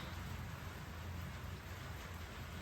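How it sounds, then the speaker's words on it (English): Steady rain falls outside a garage during bodywork repair on an Abarth Fiat 500, a faint, even hiss of water filling the background with no talk over it. "apologies if you can hear it rain."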